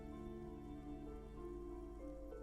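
Steady rain falls in the video game Disco Elysium, a constant soft patter on surfaces that holds evenly throughout, layered with low tonal background music and no talking.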